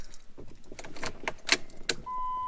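A race car key jangling and turning in the ignition with no engine start because of a dead battery: close metallic clicks and rattles, then a steady electronic tone from the dash, with no talking.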